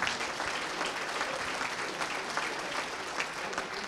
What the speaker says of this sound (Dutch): inderdaad een applaus nog